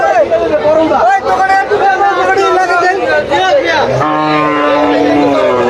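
Cattle low loudly and repeatedly at the Gabtoli livestock market, long drawn-out moos rising close by over a steady crowd babble and people talking.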